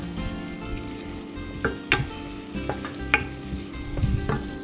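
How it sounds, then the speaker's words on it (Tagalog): Chopped yellow onion sizzles and fries in a hot pan while it is stirred, with a steady crackle and several sharper clinks and scrapes of the utensil against the pan. "isang onion lang to na yellow onion ang ginamit ko. So, saute lang natin."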